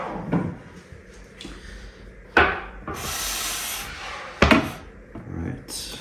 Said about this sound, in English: I'm gonna cut into it and see what the crumb looks like